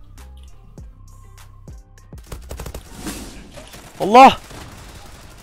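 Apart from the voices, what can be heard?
Glock 18 pistol gunfire in Zula video game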